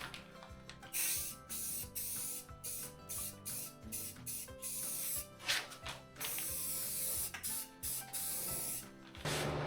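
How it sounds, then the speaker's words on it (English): Aerosol spray paint can hisses in repeated bursts, spraying the underside of a Massey Ferguson GC2300 tractor's Curtis cab; close, loud spurts separated by short pauses, with rattling and clicking between them. "I'm going to get the other can and spray the bottom now"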